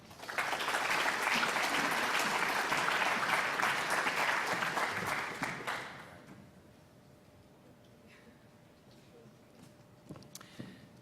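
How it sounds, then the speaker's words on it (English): Graduation audience applauding loudly with sustained clapping for about six seconds, then fading to a quiet room with a few scattered claps and faint voices. "Another round of applause for all the students, please."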